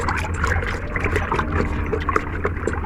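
Homemade multipurpose liquid dish soap mixture being stirred, giving a continuous wet sloshing and swirling with small liquid splashes, close and steady with no speech.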